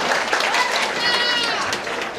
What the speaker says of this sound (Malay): Oke, tepukan kepada anda semua.